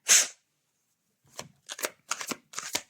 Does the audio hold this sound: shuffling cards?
yes